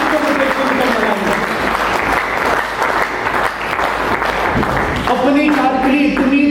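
A seminar crowd applauds loudly and steadily for several seconds, a thick continuous wash of clapping, with a speaker's amplified voice rising over it toward the end.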